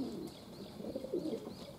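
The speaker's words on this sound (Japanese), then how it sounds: "この今飛んでいる鳩は屋根の上にいまして、その遠征の鳥についていけなかった鳩たちです" Pigeons that stayed behind while the rest of the flock went on a long flight circle above a house roof. Their soft, distant cooing and bird calls come faintly over a low, steady background.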